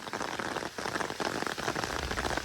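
Heavy rain and hail pelting a large golfing umbrella during a Norwich thunderstorm, a dense, steady close-up patter with no pauses.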